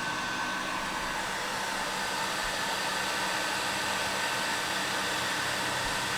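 A heat tool, likely a hair dryer or heat gun, blows a steady broadband whoosh while warming a kinked bamboo fly rod to soften its resins, continuous and fairly close with no talk.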